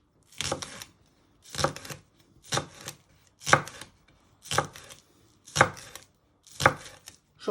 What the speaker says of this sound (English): And then you just want to finely slice them. Into little pieces.